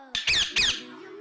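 Two sharp, high-pitched bird squawks in quick succession, loud and close, followed by a brief fading tone.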